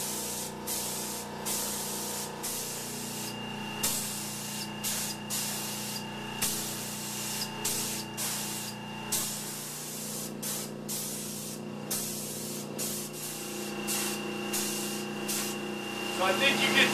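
Repeated spray bursts laying a second coat of paint onto decorative iron railings, steady short hisses starting and stopping in a loose rhythm, fairly close, with faint background hum and no talk.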